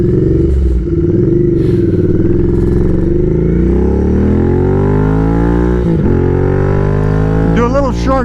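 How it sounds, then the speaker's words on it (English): A Royal Enfield Interceptor 650 motorcycle is downshifted aggressively, its engine note loud and close, sweeping down and up in pitch with revs through the gears, a sharp blip near the end. "Let's see what happens when we do some major aggressive downshifting."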